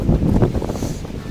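Steady wind buffeting the microphone, a low continuous rumble with no voices.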